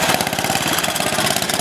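A vintage 600 cc low-revving motorcycle engine with spark or battery ignition runs steadily, its close, loud chugging beat thumping evenly at an idle-like pace.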